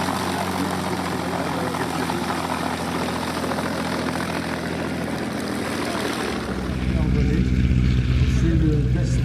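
A Vickers propeller aircraft flies past at an airshow with a loud, steady drone that deepens and swells into a heavier low roar as it comes closer.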